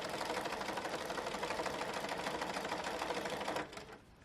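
A sewing machine runs at a steady medium stitch length through fabric, a fast even mechanical whirring and ticking heard close and alone for about three and a half seconds before it stops abruptly.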